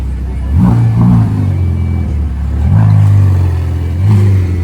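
A satin red supercar with custom tyres, modified rims and stock-looking exhausts cruises along the Croisette in Cannes, its engine rising in three loud revving surges as it passes close by.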